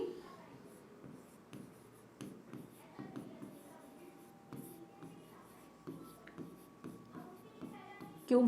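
A teacher writes by hand in a quiet room, with soft, intermittent pen or chalk scratches and light taps scattered through the stretch, heard close but faint.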